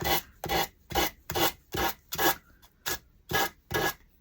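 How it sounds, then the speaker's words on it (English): A finger sander works on wood in repeated short bursts, about nine rasping strokes in quick rhythmic succession, close and fairly loud with brief gaps between each pass and no talking. "I love this finger sander."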